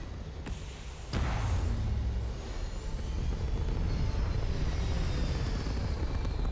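A spaceship lifting off in Starfield: a sharp clunk, then a low engine roar that builds and holds as a steady, heavy rumble with a faint rising whine, fairly quiet overall.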